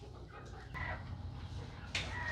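Chickens in a new coop inside a barn give a few soft, quiet clucks and squawks, with a louder call near the end over a low background hum.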